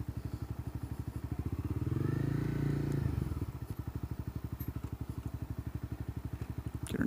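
A motorcycle idles with a rapid, even thumping pulse while being parked, the engine swelling louder for about a second mid-clip as it is revved, then settling back to idle.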